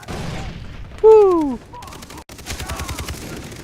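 Grenade blasts and gunfire in the video game Far Cry 3 during co-op play, with a loud swooping burst standing out amid busy game noise, under brief excited speech.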